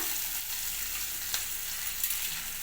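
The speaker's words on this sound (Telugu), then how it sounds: "అల్లమిరపకాయ పేస్ట్ ఫ్రెష్దే వేయాలి బాగుంటుంది ఇది కొంచెం వేడైన తర్వాత" Ginger chili paste fries in a hot pan with a steady, close crackling sizzle throughout, broken by a couple of brief sharp pops and no voices.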